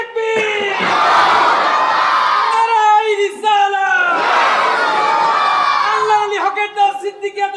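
A large crowd at a Bengali religious gathering chants Islamic slogans in unison in response to a leader, two long loud surges of massed voices, each followed by a shorter voice and fading shouts.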